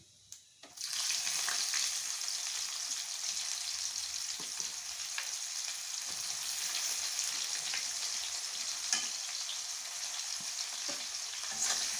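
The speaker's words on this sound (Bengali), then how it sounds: "পেঁয়াজটা একটু ভালো করে ভেজে নেব, একটু লাল করে ভেজে নেব।" Chopped onion hits a hot pan and then fries with a continuous, even hiss and crackle that stays steady and close throughout, with faint stirring scrapes and no talk.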